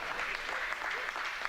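Crowd applause at a club open quarter-final match after a long rally, a steady broadband wash of clapping and cheering that holds level throughout with no clear breaks.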